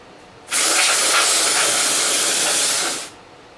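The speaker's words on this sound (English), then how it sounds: "spray this thing down with some contact cleaner" Contact cleaner sprays onto Commodore 64 parts in one loud, steady hiss lasting about two and a half seconds, with near-silence before and after.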